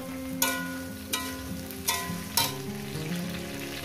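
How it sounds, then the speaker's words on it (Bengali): Lightly salted brinjal pieces fry in oil, a steady close sizzle broken by four sharp stirring scrapes at irregular intervals, with no talk. "দিয়ে এটাকে আমি বেগুনটাকে ভেজে নেব।"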